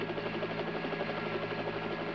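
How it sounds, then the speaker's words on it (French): Helicopter from the 1981 film Nighthawks flies close by, giving a dense, steady rotor throb and engine buzz at moderate level with no voices over it. "Putain, l'hélicoptère est très très proche"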